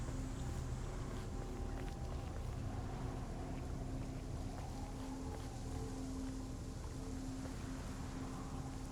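Low, steady wind gusting in a video game, a faint continuous rush with a soft hum beneath it, no voices.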